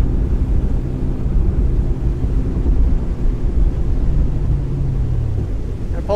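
A 2008 orange Supreme V220 22-foot direct-drive boat carves a tight turn, its engine a loud, steady low rumble with a slowly shifting pitch, accompanied by a continuous wash of water and wind.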